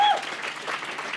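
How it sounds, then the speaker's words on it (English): An audience at a parliament exhibition launch breaks into a short, dense burst of applause, steady and moderately loud throughout. "A big round of applause for Belinda,"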